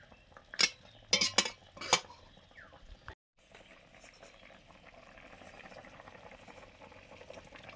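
Fish curry gravy with vegetables bubbles in a pan, a soft steady simmer heard after a few sharp clinks of utensils against metal and a brief pause.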